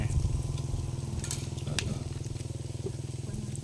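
Pork sizzles and crackles on a hot tabletop grill, a soft continuous hiss with a low hum underneath and no talking.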